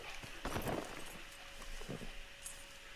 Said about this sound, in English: Why do you walk away, you dumb horse?